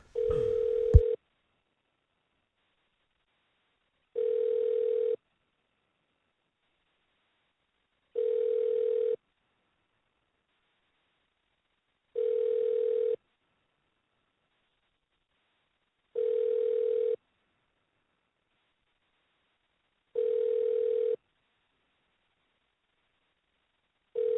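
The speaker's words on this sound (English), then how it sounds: "Ringing, ringing, ringing." A telephone rings repeatedly, each steady tone lasting about a second and separated by roughly three seconds of silence, evenly paced and fairly clean, with no talking.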